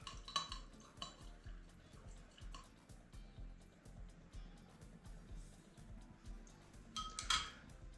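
A rye old fashioned mixture is stirred in a glass, giving faint, rapid clinks and scrapes of a bar spoon against glass and ice, repeating steadily at low volume with a few brighter chimes near the end.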